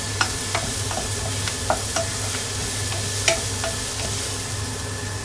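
Fresh bamboo shoot cooks in a pan as chili powder is stirred in, producing a low steady sizzle punctuated by light rhythmic utensil taps and scrapes, with no talking.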